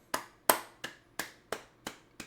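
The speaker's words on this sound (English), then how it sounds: "Round of applause right there." A few quiet, sharp hand claps spaced unevenly, close and isolated against silence, a small round of applause from one person.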